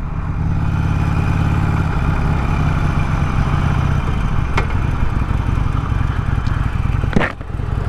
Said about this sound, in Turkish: Motor bir tekliyor mekliyor bir şeyler yapıyor böyle.